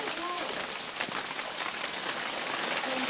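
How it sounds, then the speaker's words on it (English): Hailstones fall in a dense, steady patter on outdoor surfaces during an April hailstorm, a continuous pelting hiss with faint voices nearby. "we've got hailstones"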